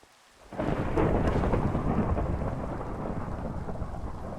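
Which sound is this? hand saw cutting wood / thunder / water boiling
thunder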